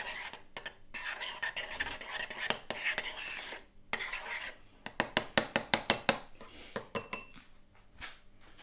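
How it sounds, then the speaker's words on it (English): Quaker oats porridge stirred in a pot, a spoon scraping and clinking against the metal in a run of quick, rhythmic strokes that grow louder and more regular midway, with no talk. "I'm going to give that a stir"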